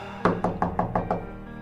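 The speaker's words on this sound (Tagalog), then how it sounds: "Kinatok ni Rodel ang kwarto ni Julio" Someone knocks on a bedroom door with six firm, evenly spaced raps in quick succession, close and clear, with no voices during the knocks.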